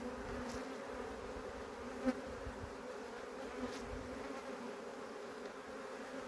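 Honey bees hum in a dense, steady drone at a beehive, close and continuous, with a brief tap partway through.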